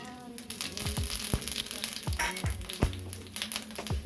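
Whole spices, mace, cardamom and cinnamon, dropped into hot oil crackle and sizzle, with several sharp pops and spits over a soft continuous fizz, fairly close and quiet with no talking.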